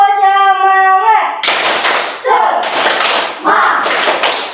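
Schoolchildren in a classroom do rhythmic spirit clapping, loud clustered bursts of claps in a patterned beat that follow a voice leading the chant.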